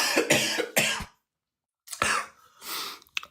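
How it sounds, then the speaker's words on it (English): A few harsh coughs in quick succession, a pause of silence, then more coughing and throat-clearing, close and loud. "I was in the middle of coughing"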